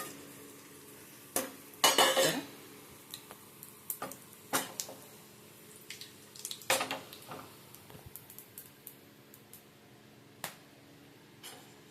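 Whole spices for pulao (bay leaf, cloves, cinnamon and shahjeera) dropped into hot oil in a pot: scattered sharp metallic clinks and a short loud burst of crackling near the start, then a quiet hiss with occasional taps.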